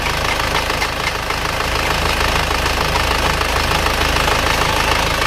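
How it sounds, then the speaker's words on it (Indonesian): A car engine idling in close-up, a steady even running drone with fine rapid ticking throughout, suspected of blow-by (compression leaking past the piston rings) but without visible smoke; no voices. "Padahal mesin masih halus dan rata."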